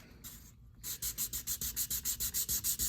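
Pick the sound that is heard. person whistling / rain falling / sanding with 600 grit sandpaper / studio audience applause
sanding with 600 grit sandpaper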